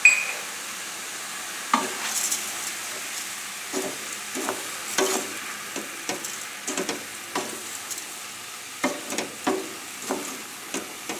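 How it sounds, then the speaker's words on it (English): Risotto rice sautéing in a pan, a faint steady sizzle broken by repeated scraping strokes of a spoon or spatula stirring, close and moderately quiet, no one talking. "and let this saute a little bit"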